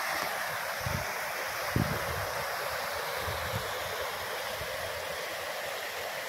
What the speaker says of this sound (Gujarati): કુબા ગામની નદી હરખુડી એના ઉપર આવા ચેક ડેમ માંડ્યા છો